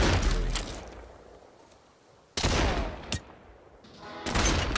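Gunfire from a .357 revolver in the VR shooter Population One comes as sharp, loud reports several times across the stretch, each a broadband crack with a short tail. Quieter game ambience fills the gaps between shots.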